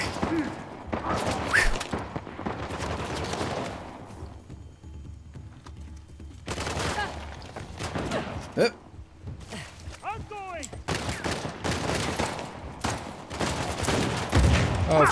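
Shotgun blasts and other gunfire in Uncharted: The Lost Legacy come in bursts of sharp, loud booms between quieter stretches. A person talks over the action throughout.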